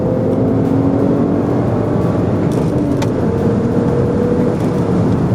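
A BMW 335i with the N54 engine and six-speed manual gearbox accelerating, heard as a steady, loud engine drone with road and wind noise, recorded from inside the car.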